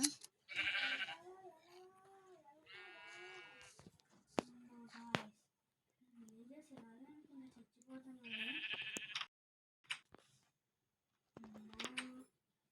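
Goats in the Minecraft video game bleat in several short, wavering calls spread through the stretch, the cries coming in bursts separated by brief pauses.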